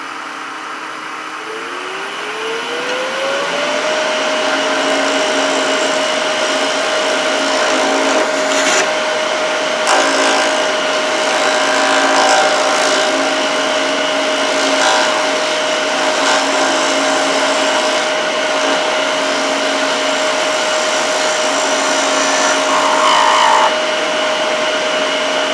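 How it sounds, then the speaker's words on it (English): An aluminum pen blank spins on a wood lathe as it is sanded, with a loud steady motor whine rising in pitch as it spins up and then holding, and faint rasping of abrasive against the metal. "sanding aluminum and going through the sanding steps, not hard at all"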